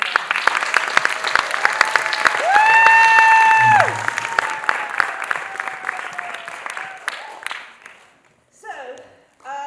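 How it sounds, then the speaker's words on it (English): An audience applauds and cheers after a children's Diwali play performance. The crowd claps steadily while a voice carries over it, and the noise fades away toward the end. "A big round of applause again for them."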